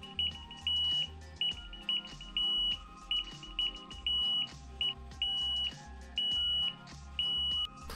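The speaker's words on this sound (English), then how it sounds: "powerful 8-tone sounder" An Alertus Alert Beacon's 8-tone sounder alarm sounds steady, regularly repeating electronic beep tones in short pulses, clear and alone with no talk.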